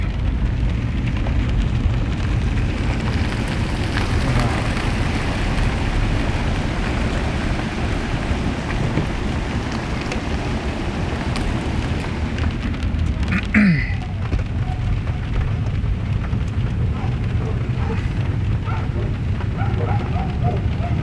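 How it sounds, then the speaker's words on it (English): Rain falls steadily during flash flooding in the Colorado Rocky Mountains near Glen Haven and Estes Park, a dense, close wash of drops and rushing water with a brief sharp sound midway. "the rain's kind of picking up a little bit, but not like as bad as it was"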